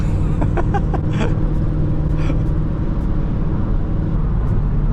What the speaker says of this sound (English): so you guys clearly heard the car right now